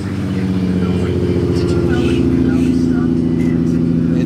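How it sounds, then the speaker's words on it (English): Nissan R32 GT-R arriving at an outdoor car wash meet, its engine rumbling close and loud with a throaty idle swelling into revs, while people talk nearby. "got the R32 showing up"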